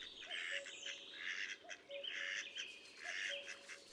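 Birds in a marsh wetland call faintly from a distance: repeated short tonal notes rise over continuous busy chirping and chatter.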